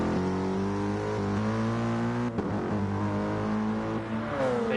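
Race cars in a racing video game roar loudly and continuously, GT3 and LMP1 engines climbing in pitch as they accelerate, with a brief gear-change dip midway and no talk.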